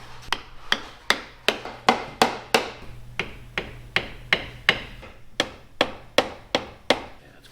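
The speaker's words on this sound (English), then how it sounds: "I need a bigger hammer." Hammer striking metal on a large off-road wrecker truck, a steady series of about twenty sharp, close, ringing blows at a brisk even rhythm, alone without talk.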